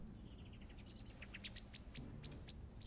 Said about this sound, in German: Aber ein Vogel zwitschert.